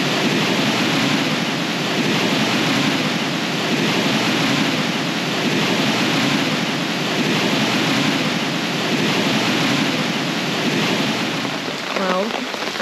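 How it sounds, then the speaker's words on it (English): Broadband rushing water at the top of a massive waterfall in Mondulkiri, Cambodia, roaring steadily and loud throughout in rainy weather, with a brief voice near the end. "So this is the top of that massive waterfall we just walked down through before."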